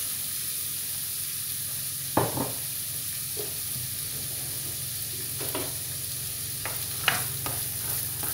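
Garden vegetables and peas cook in a pan with a soft, steady sizzle and hiss, and a few scattered clinks and scrapes of a utensil come through now and then. No one speaks.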